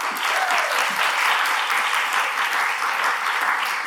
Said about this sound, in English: So big round of applause to everybody.